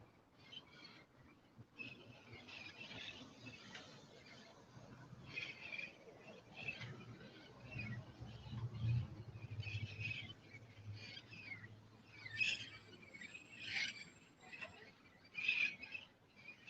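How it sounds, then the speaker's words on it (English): Parrots call from a distance along a city street at night, faint, scattered squawks rising over a quiet low hum of traffic. "you can hear the parrots in the background"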